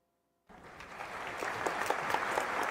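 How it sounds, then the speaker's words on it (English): Theater crowd applause in the video game A Tithe in Blood swells up suddenly from silence, a dense, sustained clapping from many hands that grows slightly louder and continues to the end. "The crowd's applause, joined by my own, echoes about as the heavy curtain draws across the stage"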